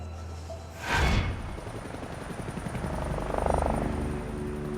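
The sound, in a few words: search helicopter flying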